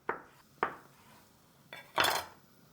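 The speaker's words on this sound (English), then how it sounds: "I am just gonna slice the tofu." A few sharp knife taps against a cutting board while slicing tofu, spaced irregularly, close and crisp, with a slightly longer scraping cut near the end.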